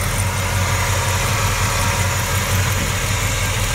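A 1967 Chevy Chevelle SS 396 V8 idles steadily up close, a loud, even low rumble with a regular lope and no voices over it.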